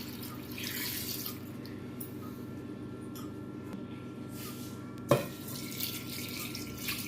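Water is poured into a pressure cooker in a kitchen, a continuous splashing stream heard up close, with one sharp metallic clank partway through.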